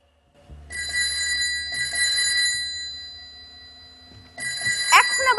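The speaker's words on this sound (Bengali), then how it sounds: "এখন আবার কে ফোন করল?" A telephone rings in bursts of bright electronic trilling, two rings then a third after a pause, with a low hum beneath and a voice speaking briefly near the end.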